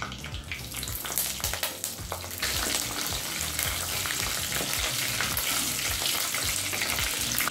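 Curry leaves drop into hot oil for a Tamil chicken sukka varuval, giving a loud, dense, continuous sizzle and crackle that swells sharply after a brief stir, close up with no voices.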